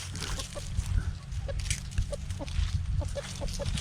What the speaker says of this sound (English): So let me go feed these chickens so they'll get away from my pumpkins.